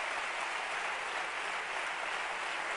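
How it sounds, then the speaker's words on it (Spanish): Crowd at a socialist party political conference closing applauding the party's women, a sustained, uniform roar of clapping from a large hall, somewhat distant and steady. "un aplauso a las mujeres socialistas"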